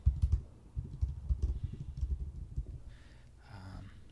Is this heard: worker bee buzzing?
no